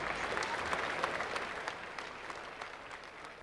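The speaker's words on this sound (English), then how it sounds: "they're going to cheer him off the ground" At a 1985 Test match at Adelaide between Australia and India, the cricket crowd applauds a bowler off the ground with steady, close-packed clapping that holds evenly throughout.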